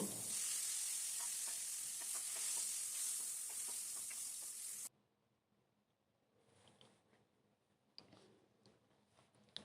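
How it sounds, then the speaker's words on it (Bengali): Potatoes frying in hot oil give a loud continuous sizzle, then it cuts off abruptly and quiet ticks, pops and light clicks follow, with a few sharper crackles toward the end. "এবার আলু ভেজে নেব"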